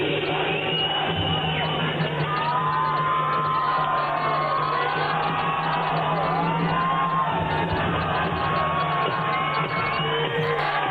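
A large crowd at the Wagah Border beating retreat ceremony between India and Pakistan cheers and chants steadily, with whoops and yells rising over a constant roar.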